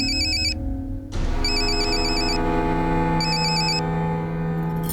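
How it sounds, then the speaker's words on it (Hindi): A phone ringtone for an incoming call, set in a police drama scene, plays loudly over background music: a repeating electronic melody that cuts out briefly and then resumes for several bursts. "कोई दिल जले आशिक का फोन आ रहा है आपको"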